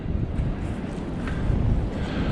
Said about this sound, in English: It's still good and windy out here.